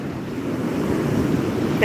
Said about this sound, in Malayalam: നമ്മൾ പ്രതീക്ഷിക്കാതെയാണെങ്കിൽ വരുന്ന വലിയ വലിയ തിരമാല